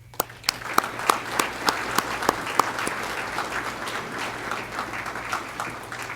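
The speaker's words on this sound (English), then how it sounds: "please give applause for the family members that support you and the work that you do." Applause fills an awards ceremony for valor award winners and their families, steady and moderately loud for about six seconds, with a few sharper claps standing out early on over a low hum.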